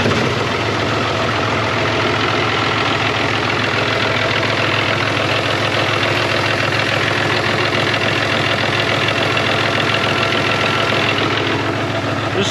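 Tractor engine idling after spring maintenance, a loud steady low rumble with a rapid knocking chug that holds even and unchanging throughout, with no voices over it.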